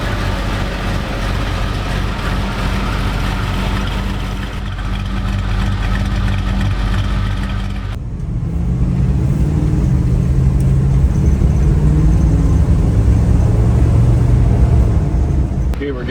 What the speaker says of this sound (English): Okay, we're getting on the highway and going to take it up to speed for you.